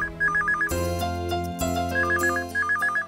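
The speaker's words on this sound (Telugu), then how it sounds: "਎వరు ఫోన్ చేశారు ఈ టైంలో?" A mobile ringtone plays a repeating warbling electronic trill in several bursts over a sustained dramatic music bed in a TV-serial scene.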